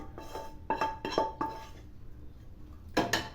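Hot coconut burfi mixture with makhana being scraped out of a metal pan onto a metal plate: a quick run of sharp metallic scrapes and clinks, a short pause, then two more close clanks.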